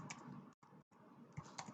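Quick light keystrokes patter on a computer keyboard, a short close burst of typing with brief pauses between clusters.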